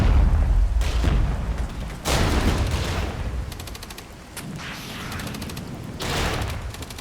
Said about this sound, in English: Get that tank right over here on the edge of Hill 71 and start returning fire